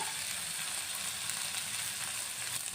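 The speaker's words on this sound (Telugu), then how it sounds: "ఇప్పుడు ఉల్లిపాయ వేగడానికి కొంచెం ఉప్పు వేసుకుంటున్నాను" Sliced onions with a pinch of salt fry steadily in a pan, giving a continuous soft hiss and sizzle with no talking.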